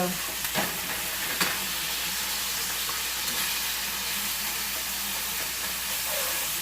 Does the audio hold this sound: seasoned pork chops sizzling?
yes